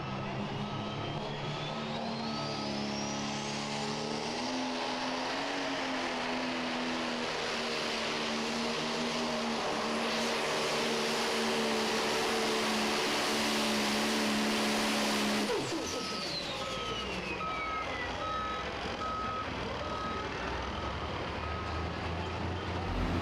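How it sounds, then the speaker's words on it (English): A super modified pulling tractor engine screams at high RPM with heavy wheel speed during a pro pull at Goshen, loud and sustained with rising tones before the roar drops off sharply. "Big RPMs, a ton of wheel speed, pulls the front end up in the air"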